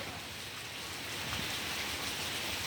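Steady rain pours down, a dense even hiss with no letup, fairly loud and continuous.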